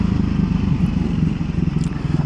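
A Triumph Scrambler 400X motorcycle engine drones steadily while riding, a close, loud low thrum with a continuous pulsing rumble and no talking.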